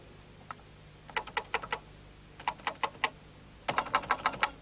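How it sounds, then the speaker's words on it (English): Keys clatter on a Commodore PET computer keyboard in three quick bursts of typing separated by short pauses, close and fairly quiet, with a faint steady hum underneath. "Now hold the Shift key down to type them."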